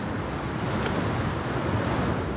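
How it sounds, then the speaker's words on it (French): Steady 70 km/h wind with rain roars over icy open water aboard a sailboat, a dense continuous rush with faint splashing, loud and unbroken throughout. "Le vent et la pluie viennent corser le jeu."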